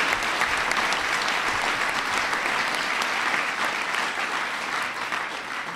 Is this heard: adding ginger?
no